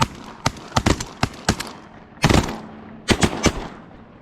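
Shotgun blasts fired at geese during a late-season goose hunt, about a dozen sharp, loud reports in quick irregular bursts, some overlapping, with quiet gaps between volleys.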